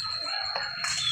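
A rooster crows once, a short, loud call heard close by with nothing else around it.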